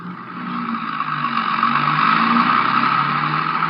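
A car pulling away on a highway with a hitchhiker aboard, heard as a steady engine drone that builds slightly as it gets underway, close and fairly loud, with no one speaking.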